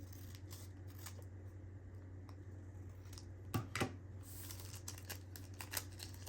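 Scissors snip a paper fern decoration in a quiet indoor room. Two quick, faint cuts come close together midway through, over a low background hum.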